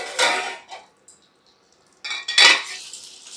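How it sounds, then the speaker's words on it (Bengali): A metal lid lifted off a cooking pot where small live fish fry in oil, giving a couple of close clattering clinks separated by a quiet pause, with soft frying underneath. "ঢাকাটা খুলে দেখে নেব"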